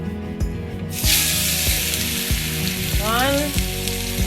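Steak hitting a smoking-hot pan for a sauté, a sharp burst of loud sizzling that then holds as a steady hiss, with a few knocks and clinks from the pan underneath, close by and without talk.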